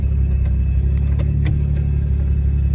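A turbocharged Lexus GS300 idling as it is shifted into reverse, a steady deep engine rumble close by with a few faint clicks and taps over it, no voices.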